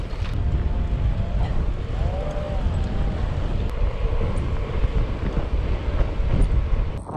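Strong north-northeast wind roars across the microphone during an ultra-distance bike ride in western France, a loud, continuous low buffeting rumble that persists for the whole stretch, with faint traces of voices beneath it.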